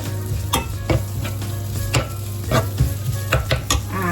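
Pork bones with lemongrass sizzle in a hot pan while a utensil scrapes and stirs them in irregular strokes, close and clear.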